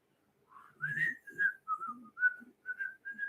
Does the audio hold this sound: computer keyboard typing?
no